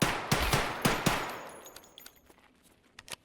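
Gunfire in Escape from Tarkov 1.0 tutorial combat: a loud, rapid volley of shots up close that trails off into a decaying echo, followed by fainter, sporadic single shots.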